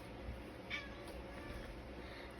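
A house cat indoors gives one faint, brief meow early on, barely rising above a steady background hiss of room noise.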